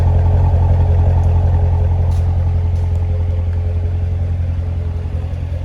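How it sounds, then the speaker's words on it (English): A 2019 Chevrolet Corvette Grand Sport in Ceramic Matrix Gray idles behind its exhaust, a steady low rumble heard close from the rear that fades slightly toward the end, with no voices. "Great sounding exhaust."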